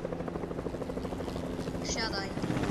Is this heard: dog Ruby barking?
no